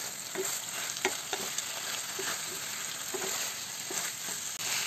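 Tengra fish dropped into a hot spice mixture in oil sizzles steadily, with a dense hiss and scattered clinks and scrapes of stirring throughout, close and moderately loud.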